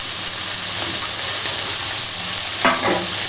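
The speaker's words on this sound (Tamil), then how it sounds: "போட்டுட்டு நல்லா வதக்குங்க. அதை கொஞ்சம் நேரம் வதங்கட்டும்." Peas, capsicum, beans and carrot with curry leaves and coriander sautéing in a pan for masala idli: a loud, steady sizzle throughout, with a single stirring scrape near the end and no voices.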